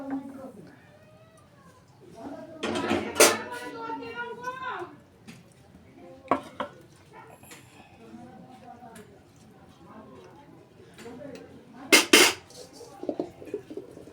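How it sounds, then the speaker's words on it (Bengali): Chicken curry is poured into a pot for biryani, with metal clanks and spoon scrapes against the pot and brief rattling bursts between quiet stretches. "এখানে তরকারিটা ঢেলে দেবো।"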